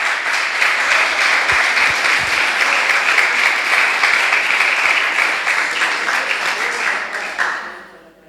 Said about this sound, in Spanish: ¿Cuántos dicen amén y le dan un aplauso a nuestro Señor?